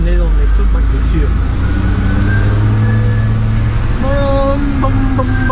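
A Ford Cargo truck with an open exhaust rumbles past, a loud steady low drone with rising tones, heard close while people talk over it.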